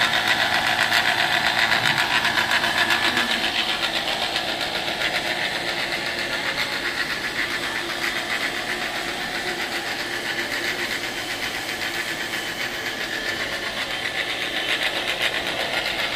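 An air-conditioning vacuum pump runs nearby with a steady, loud mechanical whir and a rapid rattling vibration throughout, with no speech.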